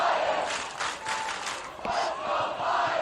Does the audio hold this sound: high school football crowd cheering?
yes